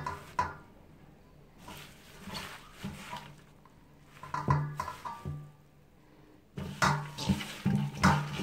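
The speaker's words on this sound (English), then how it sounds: "Then have my vegetable which I've chopped up, add it" Chopped vegetables tumble into a cooking pot in a village kitchen, a few soft clattering drops and scrapes separated by quiet pauses.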